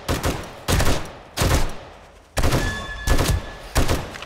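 Bursts of gunfire from bandits in the survival video game 7 Days to Die, six loud volleys separated by brief pauses, each a dense crackling blast at close range.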